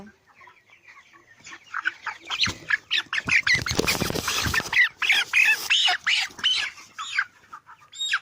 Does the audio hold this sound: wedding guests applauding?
no